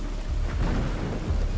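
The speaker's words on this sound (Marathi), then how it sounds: "बाहेरून पाऊस पडण्याचा जोरजोरात आवाज येत होता." Heavy rain pours in a continuous roar while thunder rumbles low and deep underneath, a full stormy wash that stays loud throughout.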